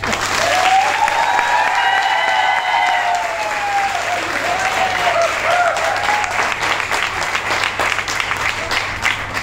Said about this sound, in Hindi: आपकी जोरदार तालियां मिले तो